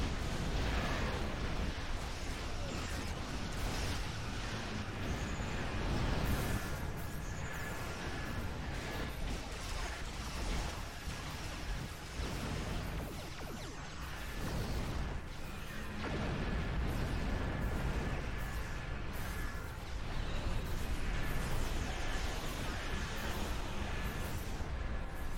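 Ship weapons in the Star Trek Online space battle, using the Fire at Will ability, keep up a dense, continuous barrage of bursts and booms with no letup, loud and rumbling throughout.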